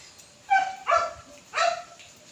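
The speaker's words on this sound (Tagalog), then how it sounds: "yung nag-iingay na aso doon, hindi ko alaga yun ha" Three loud, close barks from a single dog, evenly spaced over a couple of seconds.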